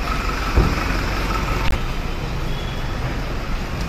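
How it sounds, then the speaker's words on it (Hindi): Morning traffic jam on a busy street outside a hotel in Shillong, India: a constant loud roadway rumble of cars and heavier vehicles, with a couple of brief thumps and no talking. "ट्रैफिक जैम काफ़ी है, पब्लिक काफ़ी है।"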